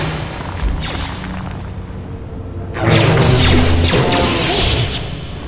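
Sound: grenade landmine explosion in video game Star Wars: Knights of the Old Republic

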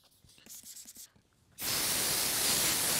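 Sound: sanding a Mercedes SL55 AMG headlight with sandpaper

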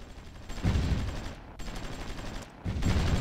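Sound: artillery fire from the video game Supreme Ruler Ultimate

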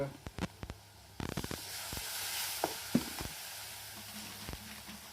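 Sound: Shingata river fish frying with spices on a wood stove

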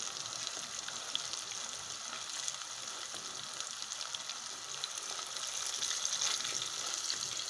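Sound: burger patties frying in a pan

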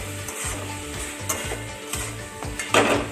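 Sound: stir-frying spice paste for cabbage and potato curry

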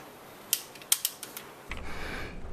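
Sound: closing the bolt on a Scorpion submachine gun

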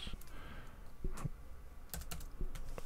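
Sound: typing on a computer keyboard

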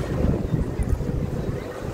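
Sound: strong wind blowing on the microphone at a fair

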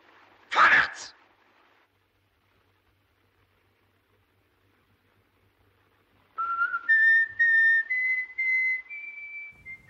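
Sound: whistled folk tune

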